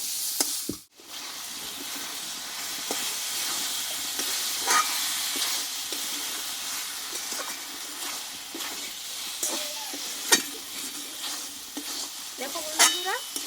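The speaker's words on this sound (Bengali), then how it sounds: "এইবার এখানে কষে রাখা ভেন্ডিগুলোকে আমি দিয়ে দেবো যে মশলার সঙ্গে ভালোভাবে কষিয়ে নেবো" Okra frying with spices in a pan, a steady sizzle with repeated scraping stirs and light utensil knocks spread across the whole stretch.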